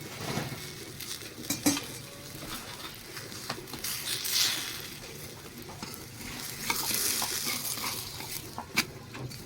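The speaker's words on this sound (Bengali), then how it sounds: "তো আমি চাটুতে সামান্য একটুখানি তেল দিয়ে দিলাম তেল পরোটা ছেড়ে দিলাম" A dal paratha frying in a little oil on a tawa, soft sizzling under frequent scraping and clinking of a spatula and utensils, fairly quiet and close.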